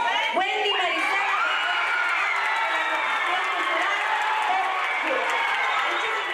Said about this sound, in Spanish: Les pido un fuerte aplauso para la nueva Mialtinimit Reshelahug Nog.